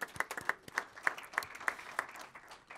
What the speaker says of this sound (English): Let's give them a round of applause for that too.